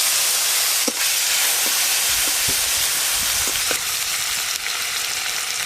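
Chopped tomato hits hot oil with whole garam masala, dried chillies, turmeric and grated ginger, producing a loud, steady hissing sizzle that barely lets up, with a few soft taps from stirring.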